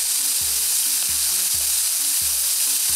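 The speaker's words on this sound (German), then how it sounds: "Jetzt warten wir, bis die Pfanne ein bisschen warm ist und machen ein bisschen Öl dazu." Oil and bacon sizzle steadily in a frying pan, a loud continuous hiss and crackle with faint rhythmic clinks underneath, no voices.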